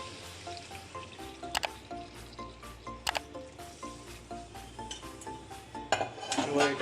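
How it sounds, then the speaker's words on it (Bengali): Okra masala being stirred in a pot with water just added, a spoon scraping and clinking against the metal in a steady rhythm over a low simmering sizzle, no voices. "জলটা দেওয়ার পর 5-6 মিনিট ভালো করে নাড়িয়ে চাড়িয়ে"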